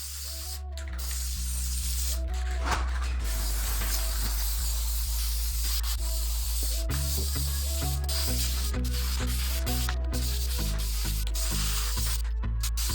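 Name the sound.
spraying adhesive onto car headliner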